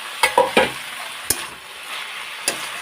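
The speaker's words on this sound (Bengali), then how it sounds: "এবার এর মধ্যে এই যে মাছের মাথাগুলো যে ভেজে রেখেছিলাম এর মধ্যে দিয়ে দেবো" Fried fish heads tumble into bitter greens simmering in a pan for chorchori, giving a few sharp clattering stirs over a soft, steady sizzle, with a final scrape near the end.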